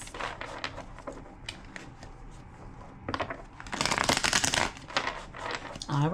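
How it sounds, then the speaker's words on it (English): A deck of tarot cards is shuffled by hand in several bursts, with soft riffling and sliding, then a louder, longer flurry of crisp shuffling close by. Speech is heard between the shuffles. "2 more shuffles."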